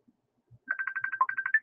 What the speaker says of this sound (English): How many times is it going to ring?